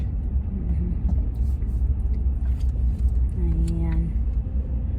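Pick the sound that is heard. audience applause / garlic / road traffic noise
road traffic noise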